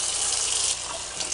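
Tap water rushes loudly and steadily over plastic hamster cage parts being rinsed in a sink, a close continuous gush with a slight dip partway through.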